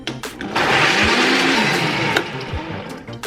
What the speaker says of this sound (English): Now blend until smooth.